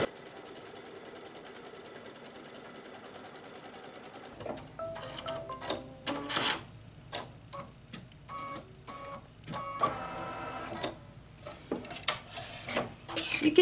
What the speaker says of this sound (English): we are stitching the one with the guideline to make it easier to cut around